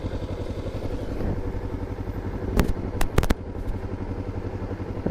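A Kawasaki Ninja 300 motorcycle engine runs steadily at close range with a low, even pulsing, broken briefly by a few sharp clicks or clacks partway through, and no voices.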